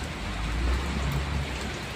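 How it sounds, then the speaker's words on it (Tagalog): Light rain falls steadily during typhoon Basyang in Talisay City, Cebu, a soft continuous patter with low rumbling wind, no voices. "Hindi lang magkusog ang ulan no. Pero ulan kita na yung hinahinay gid siya"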